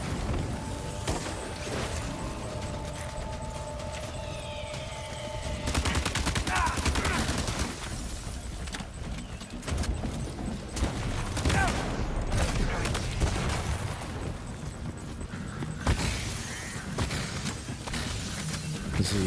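Gunfire with lethal rounds rattles through a Death Stranding 2 firefight in repeated loud volleys and sharp bursts, with bangs and crashes mixed in. Occasional voices are heard between the shots.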